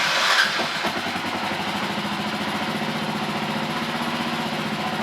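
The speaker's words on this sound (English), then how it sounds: "So here we go. We're going to start the bike up." Kawasaki KLR 650 motorcycle engine cranks and catches, then settles into a steady, even single-cylinder idle thumping close by, with no talking.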